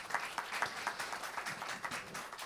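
A small audience at a round-table discussion claps faintly for an arriving guest, a thin, fairly sparse patter of individual hand claps heard at a distance.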